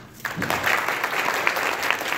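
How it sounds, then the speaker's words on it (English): A comic convention panel audience at MegaCon 2017 bursts into loud, dense applause after a brief quiet moment, with the clapping holding steady and close for the rest of the stretch. "Round of applause for Bernie Wrightson."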